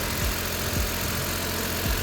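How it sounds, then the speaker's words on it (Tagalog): A Suzuki DA64V van engine, a 4x2 automatic non-turbo, runs at a steady idle after being started, with a constant mid-low drone and periodic low thumps, close and loud with no talking. "Pinandar na natin para mag-circulate na yung oil."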